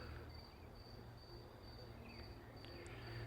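Crickets chirp steadily in a quiet forest, a thin continuous trill with faint scattered insect and bird sounds in the background.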